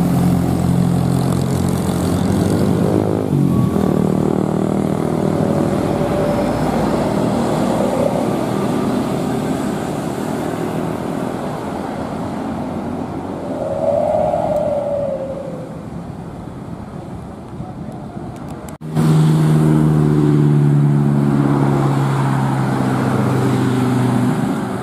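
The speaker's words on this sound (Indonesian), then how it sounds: "Bis Budiman dari Banjar ke Tangerang." A Budiman intercity bus travelling from Banjar to Tangerang drives along a winding road in Garut, its engine a continuous near drone that dips in the middle and then swells again as it pulls through the bends.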